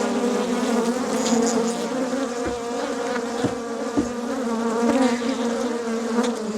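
Agitated honeybees swarm around an opened beehive, a dense, loud and steady buzzing right at the microphone with a few faint knocks underneath and no talking.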